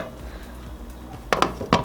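A metal lid is set onto a pot of simmering white bean and vegetable soup, two sharp close clanks near the end after a quiet bubbling stretch.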